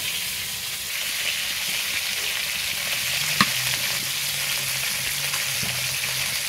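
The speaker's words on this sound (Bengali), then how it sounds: "মাছ ভাজা হচ্ছে, আর এর থেকে খুব সুন্দর ঘ্রাণ বেরোচ্ছে" Fish frying in oil for a Bengali home recipe, a steady close sizzle and crackle throughout with one brief sharper pop midway, no talking.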